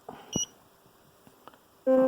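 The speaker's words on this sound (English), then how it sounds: "Oh, beeps." A Z-Wave water sensor chirps a short electronic alarm beep at the end, preceded by a faint tap and small handling clicks in a quiet room.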